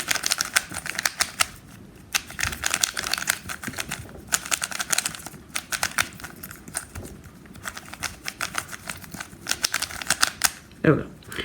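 A freshly lubricated 3x3 speed cube is twisted rapidly during a solve, producing close, irregular bursts of light plastic clacking with brief pauses between sequences.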